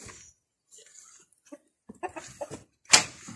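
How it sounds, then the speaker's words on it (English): A rooster and hens at a feeding cluck in short, scattered bursts, building to a louder sharp squawk near the end, close by with quiet gaps between calls. "one male chicken rooster"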